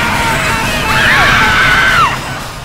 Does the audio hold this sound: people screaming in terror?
yes